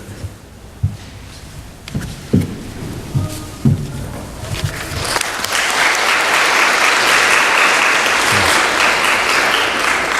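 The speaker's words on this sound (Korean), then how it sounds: "박수로 환영해 주시기 바랍니다" A church congregation bursts into applause to welcome the pastor to the front, first a few scattered claps and footsteps in a quiet hall, then sustained clapping from many hands.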